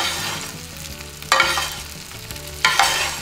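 Butter sizzles steadily in a frying pan while a spoon scoops and bastes it, with two louder splashing bursts of spattering fat about a second apart, close and without talk.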